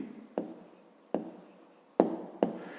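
Writing by hand on paper, with four soft scratching pen strokes, each starting with a tap and trailing off, close and quiet, with no talk.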